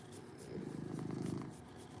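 A cat purrs steadily while being petted, a close low rhythmic rumble that swells in the middle and then eases, with faint rustling and no talk.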